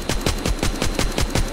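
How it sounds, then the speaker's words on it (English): A minigun fires at zombies in The Walking Zombie 2, a fast, relentless burst of evenly spaced shots, loud and close, running without pause. "Take the minigun. Destroy all incoming zombies."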